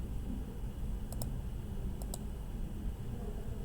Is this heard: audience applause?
no